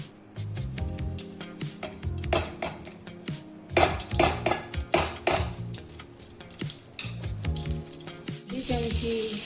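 Butter sizzles in hot oil in a pan while cooking a paneer cheese ghotala, with steady frying hiss mixed with repeated metal spoon-and-pan clatter and stirring knocks, close and fairly quiet.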